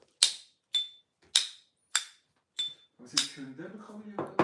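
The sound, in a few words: tesbih prayer beads clinking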